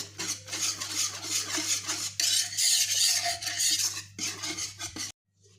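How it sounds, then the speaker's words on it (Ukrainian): A whisk beats flour into a yeast dough starter for Easter bread, giving steady rapid scraping and rattling strokes against a bowl, close and alone, ending abruptly. "Перемішую все от вінчиком"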